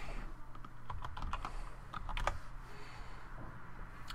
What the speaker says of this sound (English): Let's just type in open blocks.